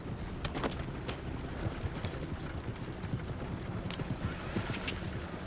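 Horse hooves pound in a rapid galloping clip-clop in Red Dead Redemption 2, several horses' steps overlapping in a dense, continuous rhythm at moderate volume under a low rumbling bed.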